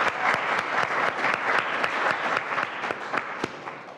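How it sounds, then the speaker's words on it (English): Sustained applause from an audience at a talk, dense steady clapping filling the space for several seconds with no voices over it. "One more round of applause."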